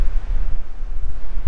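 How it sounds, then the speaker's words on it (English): Strong wind roars and rumbles into the microphone in a steady low blast on the deck of the Carnival Horizon cruise ship, with no voices. "it's very windy."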